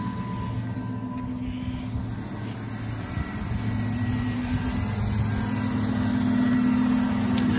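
A 2006 Dodge Charger engine idling steadily after an oil change, a continuous low hum and rumble at constant level with no talk.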